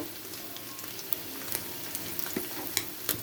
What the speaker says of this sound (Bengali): রসুনটা ভাজা ভাজা হবে